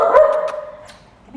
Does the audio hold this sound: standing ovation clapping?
no